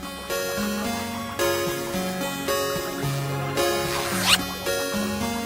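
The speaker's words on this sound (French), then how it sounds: "Rien ne l'empêche de remonter sa fermeture éclair." A zipper on clothing is pulled up in one quick, brief zip near the end, heard over steady background music.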